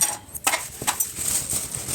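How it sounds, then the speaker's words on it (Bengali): Spicy homemade pasta is tipped from a pan into a bowl: a run of bright metallic clinks and scrapes of spoon against cookware, fairly close and irregular, with no talking. "এবার আমি একটা পাত্রের মধ্যে ঢেলে নেব"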